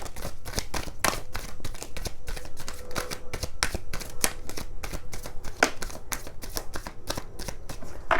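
A deck of cards is shuffled during a pick-a-pile tarot-style reading, giving quick, close riffling flutters that repeat in an even, continuous rhythm without talk.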